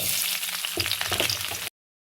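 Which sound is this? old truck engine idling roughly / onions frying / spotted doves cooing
onions frying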